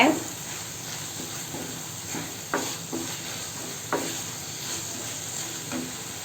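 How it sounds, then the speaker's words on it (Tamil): Tamarind is sautéed in a pan with mint chutney ingredients, giving a constant hissing sizzle and about half a dozen distinct spatula scrapes and taps at uneven intervals, close up. "சேர்த்துட்டு ஒரு ஒரு நிமிஷம் போல் இதை வதக்கி விடுங்க"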